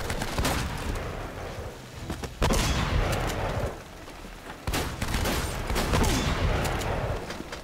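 Gunfire in Uncharted: Drake's Fortune, loud sustained volleys of shots and rapid bursts with sharp cracks, rising and dropping in intensity over several seconds.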